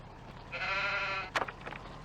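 A single sheep in a video game gives one clear, drawn-out bleat, followed by a few short clicks and knocks, all fairly quiet.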